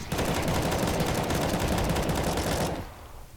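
Sustained automatic M4 rifle fire in Counter-Strike, a dense unbroken rattle of rapid shots for most of the clip before cutting off abruptly, loud and close with no talk.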